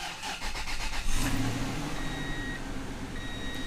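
A Toyota Tundra/Sequoia 2UZ-FE 4.7L V8 with a weak battery cranks for about a second, then catches and settles into a steady, close idle hum, with a faint electronic chime.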